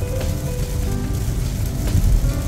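Rain pours down on a car at night, a steady hiss of close drops over a low rumble, continuous and with no talking.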